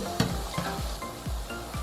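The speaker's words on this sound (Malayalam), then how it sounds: "നിറച്ച് എണ്ണ ഒഴിച്ച് ഇതേപോലെ ഒരു കുഴിഞ്ഞ പാത്രത്തിൽ വെച്ച് വേണം നമ്മൾ ഇത് വറുത്തെടുക്കാൻ വേണ്ടിയിട്ട്" Donuts fry in oil filling a deep pan, a quiet, close bubbling sizzle with soft, regular low pops running under the hiss.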